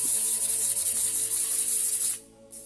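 Wet and dry sandpaper rubbing back and forth over a hand-carved jade piece, a steady close-up scratchy hiss that runs for about two seconds and then stops abruptly, followed by a quiet pause and a brief resumption.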